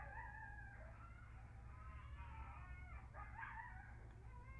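Coyotes howling and yipping in wild parkland outside, a wavering chorus of high cries rising and falling across the clip, moderately distant over a steady low hum.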